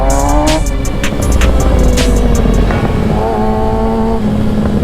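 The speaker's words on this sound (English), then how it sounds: "My bike feels nimble." Sport motorcycle ridden fast on city streets in Chicago, a loud continuous engine drone with rising and falling pitch as the rider shifts, heavy wind rush throughout and no talking.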